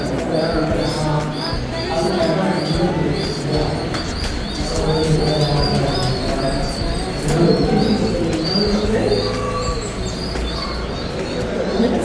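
Pigeons coo repeatedly around tightly packed temple columns dotted with their nests at a tourist site in Chittorgarh, India, the soft rolling calls continuing steadily beneath people talking nearby.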